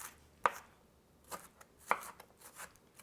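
Onions get minced by hand with a knife, with a few sharp blade taps on a cutting board at uneven intervals, close and quiet, with no voices.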